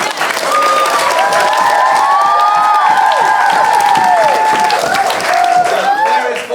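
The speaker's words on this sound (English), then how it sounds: "They won't hear us, but just give a big cheer" A theatre audience cheers loudly and steadily, many voices whooping and shouting together with scattered clapping underneath, swelling for several seconds before easing off.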